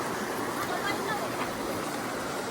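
The strong current of a large river where two rivers merge rushes in a dense, steady broadband roar, close and continuous throughout.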